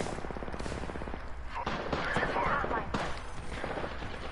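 Gunfire in Apex Legends, dense rapid bursts of shots crackling continuously, loud and close, with layered game effects throughout.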